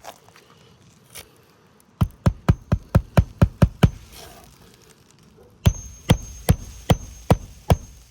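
A hammer drives a fastener into roofing shingles, two series of sharp, evenly spaced knocks, first eight strikes then six, ringing clearly over faint background hum and heard close up.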